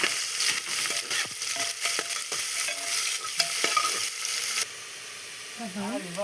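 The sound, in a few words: garlic and whole spices frying and being stirred in a pan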